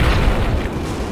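A Katyusha rocket barrage in the World War II strategy game Men of War: Barbarossa lands as a continuous roar of loud, dense explosions filling the whole moment, heavy and rumbling with no pauses.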